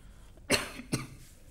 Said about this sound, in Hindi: खांसी ठीक ही नहीं होनी है